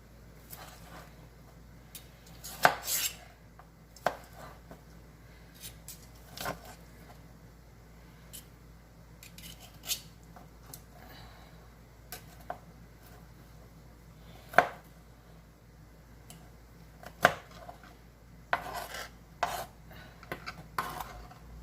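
Knife chopping fresh string beans on a cutting board, irregular sharp taps scattered across the stretch with occasional louder knocks and quieter gaps, close and unhurried, with no talking.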